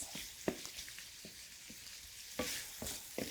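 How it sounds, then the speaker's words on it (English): Shrimp sizzle while frying in a pan, a soft, hissing crackle with scattered sharper pops and stirring clatters, fairly faint and close, with no talking. "Ooh, look at that sizzle."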